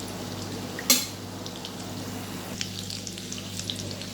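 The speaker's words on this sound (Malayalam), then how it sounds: "നമുക്കിത് വറുത്തെടുക്കാം. ഇത് നമുക്ക് ഇടയ്ക്കൊന്ന് ഇളക്കി ഇട്ട് കൊടുക്കണം." Small pieces of chicken popcorn frying in hot oil, a soft continuous bubbling sizzle with one sharp metallic clink near the start and a few faint taps, close by and without talk.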